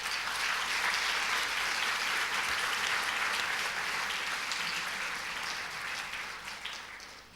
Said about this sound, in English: I want you to now give them a round of applause